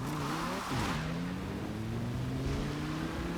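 A roughly 1,000-horsepower drift-build car with long gearing in Forza Horizon 4 runs downhill, its engine droning with a steady rising pitch under heavy revs, loud and close throughout.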